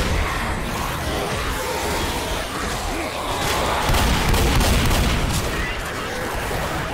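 Shotgun blasts in the PC co-op zombie shooter Left 4 Dead, loud booming shots that stand out amid a dense, continuous clatter of gunfire and game noise.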